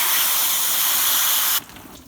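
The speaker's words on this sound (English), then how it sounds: "soapy water in the spray bottle will only get you so far" A steady, loud hiss of soapy water being sprayed from a spray bottle onto an air conditioner for about a second and a half, then it stops abruptly.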